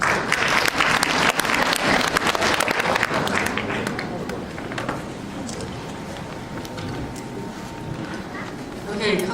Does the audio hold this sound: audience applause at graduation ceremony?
yes